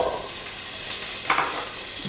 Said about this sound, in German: Und braten darin unser Wurzelgemüse an.